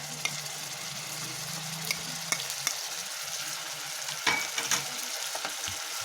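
Onion-tomato gravy fries in oil in a pan, a soft continuous sizzle broken by scattered clicks and scrapes of a spoon stirring, close and fairly quiet, with no voices.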